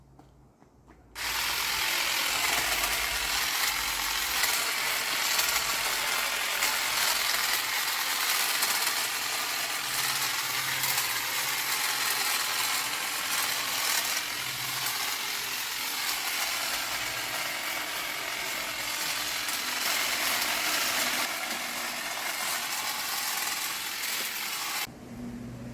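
A hedge trimmer cuts a Leylandii hedge in a garden with a loud, continuous buzzing whir that starts abruptly and runs steadily, swelling slightly as it bites into the branches.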